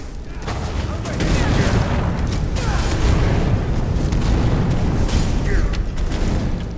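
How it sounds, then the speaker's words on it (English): Fire magic spells cast in Skyrim, heard as a dense, rumbling roar of crackling bursts and whooshes that swells after the first second and holds steady, with faint speech underneath. "Constantine hears what is the unmistakable sound of fire magic being used"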